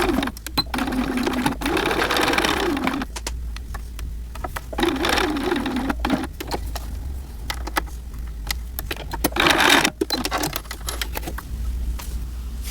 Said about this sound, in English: you're going to start sewing at 1/4 of an inch, go up here, and then pivot straight across